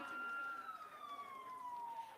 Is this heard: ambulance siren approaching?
yes